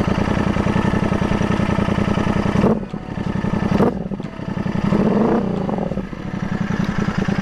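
A Royal Enfield motorcycle single-cylinder engine thumps steadily at idle, loud and close, with a couple of brief throttle dips and blips along the way.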